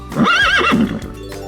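A horse whinnies loudly and close by, a high wavering neigh that rises and falls before trailing off.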